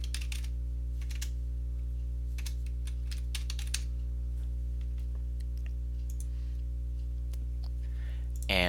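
Computer keyboard typing in short clustered bursts of keystrokes with pauses between, clicks fairly close over a constant low electrical hum, ending with a brief faint voice.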